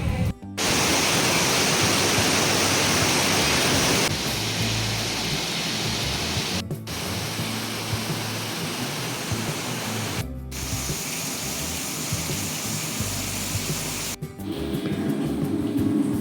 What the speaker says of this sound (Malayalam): രാവിലെ മുതലിന്ന് മഴയാവും,